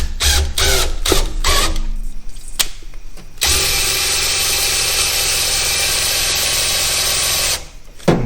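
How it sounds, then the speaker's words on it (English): A drill spins a Chevy Nova oil pump through a cut-down old distributor, starting with a few short bursts before a loud, steady whine runs for several seconds and then stops. "So now I'm using an old distributor that I cut down."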